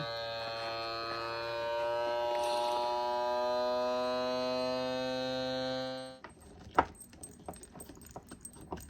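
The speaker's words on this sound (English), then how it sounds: "So I'm going to try vacuum sealing my sofrito" An electric mason jar vacuum sealer pumping air out of a jar of sofrito, a steady motor hum and whine for about six seconds, then stopping, followed by faint clicks and handling noises.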